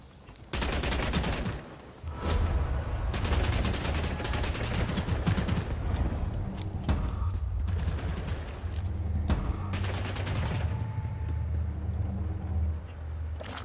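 Dense video game gunfire rattles almost without pause, with rapid shots and volleys layered over a heavy low rumble that stays loud from start to finish.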